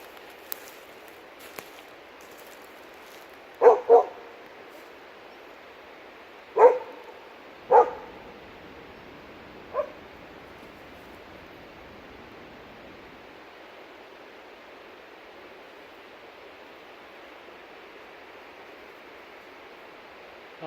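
A McNab dog barks in deep forest in Northern California, a few short sharp barks in two clusters and then a last single one, moderately distant over steady rushing water or wind noise.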